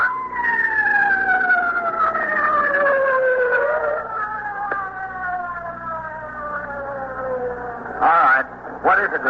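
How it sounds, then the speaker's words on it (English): A wailing ambulance siren sweeps downward in pitch, loud and close, with traffic rumble beneath and a brief burst of noise near the end. "The ambulance is just coming up here."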